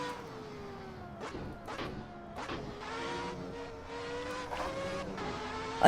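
Race car engine in a racing video game, Brazilian Grand Prix pole lap, whining through rising and falling revs with repeated throttle blips on corner exits, steady and moderately loud without talk.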